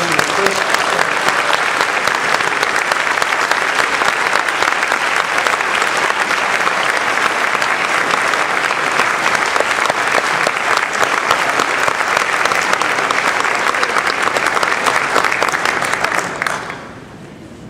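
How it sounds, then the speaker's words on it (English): A convention audience of Texas Veterans of Foreign Wars members gives a loud, sustained ovation for a state legislator accepting an award, with thick continuous clapping for about sixteen seconds before it drops away. "Please give a big round of applause to Representative Chris Turner."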